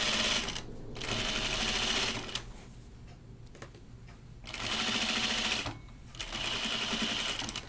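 A sewing machine understitches the neckline of an Aster garment from Colette Patterns. It runs in three bursts of rapid, steady stitching, with quieter pauses between them.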